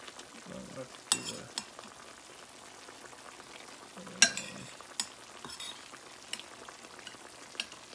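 Tenderloin and liver for Ilocano igado fry and sizzle in a pan, with intermittent stirring clatter and spoon scrapes over a soft bubbling bed, close and fairly quiet.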